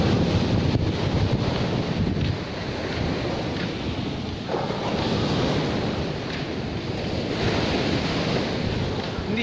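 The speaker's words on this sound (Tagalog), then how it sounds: "hindi naman ganyang kalakas yung alon natin" Sea waves washing onto the shore in bad weather, a continuous rolling surf roar with gusts of wind buffeting the microphone, moderately loud and unbroken, with no talking.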